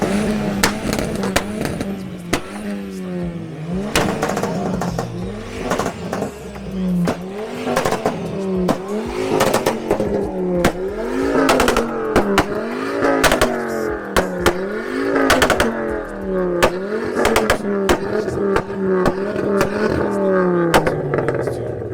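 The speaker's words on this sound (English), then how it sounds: "there's people still revving their cars and stuff" Cars revving at a busy car meet, repeated rising and falling engine roars with sharp pops and clattering, loud and close, overlapping one another with faint crowd voices underneath.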